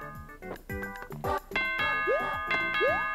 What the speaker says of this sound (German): Na, jetzt macht Ding Dong.